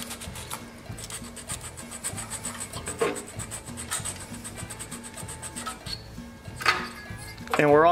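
Sandpaper rubs back and forth over a corroded coil ground on the block of a rare horizontal/vertical mount Briggs & Stratton engine, a close rhythmic rasping of repeated strokes with a few clinks.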